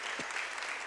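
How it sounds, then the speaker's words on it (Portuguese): A church congregation claps during a Portuguese-language sermon, a dense wash of applause heard briefly with one low thump near the start. "Pode aplaudir."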